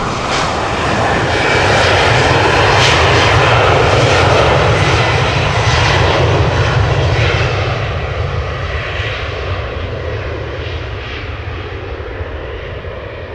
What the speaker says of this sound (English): Embraer 190 outbound to Birmingham